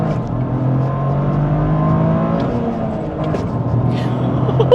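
A Toyota GR Corolla engine pulls hard in a low gear, a steady rising drone with a barky edge heard from inside the cabin, loud and continuous throughout.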